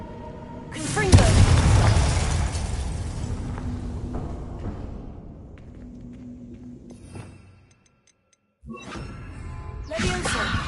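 Confringo explosive spell from Hogwarts Legacy: a heavy blast and rumbling boom that trails off slowly, then drops to near silence before a second burst of noise.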